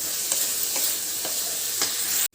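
Masala spice paste stirred and fried in oil for a bottle gourd and prawn curry, a dense close sizzle with four regular scraping strokes of a spoon through the pan, no voices.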